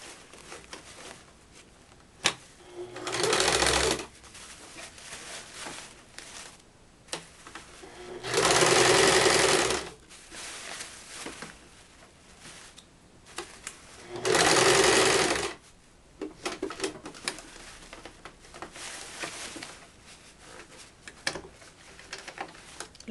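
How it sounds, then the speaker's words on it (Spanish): A sewing machine stitching a skirt waistband with elastic, three bursts of loud, fast close stitching separated by pauses filled with quieter fabric handling and small clicks. "Entonces voy a volver a coser."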